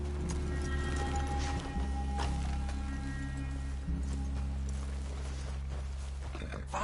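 Horses walking with soft clip-clop hooves in Red Dead Redemption 2, steady and close under a continuous low ambient hum and game background, with a faint voice briefly audible.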